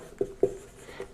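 Writing on a board during a physics lesson, three or four short, close strokes of chalk or marker with small gaps between them, quiet and without talk.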